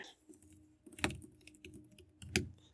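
Keys clatter on a computer keyboard in short irregular bursts of typing, close and crisp, with a couple of louder keystrokes standing out from the lighter taps.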